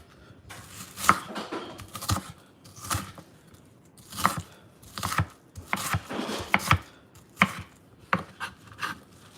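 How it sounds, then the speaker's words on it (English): Onions being cut up with a knife on a small cutting board: crisp, close chops in uneven bursts with short pauses between, no talking over them. "So I'm just cutting up my onions for right now."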